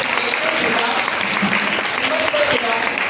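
Audience applause at a talk or discussion gathering, a dense steady wash of clapping filling the whole stretch at even loudness.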